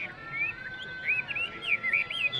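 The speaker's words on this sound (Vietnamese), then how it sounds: "Nói chung là tiếng chim mi hot rất là hay." A caged Chinese hwamei songbird at a highland market in northwest Vietnam sings clear, varied whistled phrases, repeated in rapid bursts over a steady background hum with no talk.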